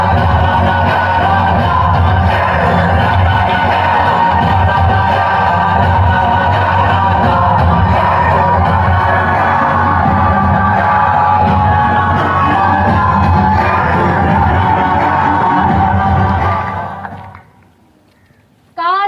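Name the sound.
audience applauding and cheering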